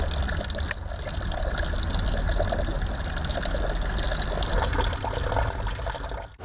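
Steady, loud rush of cold spring water flowing close by in a park in Chișinău's Sculeni district, Moldova, a continuous gushing splash without pause.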